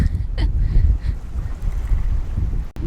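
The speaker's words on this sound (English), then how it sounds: "It's very windy." Loud, uneven low rumbling of wind hitting the microphone in gusts, close and boomy, with a brief dropout near the end.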